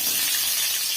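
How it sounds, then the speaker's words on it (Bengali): Long-sliced bitter gourd dropped into hot refined oil in a kadai, giving a loud, bright, continuous sizzling hiss close at hand. "তেলটা গরম হয়ে গেছে, আমরা উচ্ছেগুলো দিয়ে দিলাম।"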